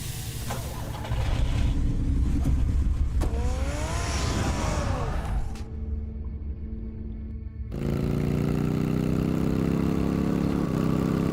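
The Batmobile's engine in Batman The Telltale Series video game, a loud rumbling car engine with a revving sweep, a brief cut to near silence, then a steady low drone resuming.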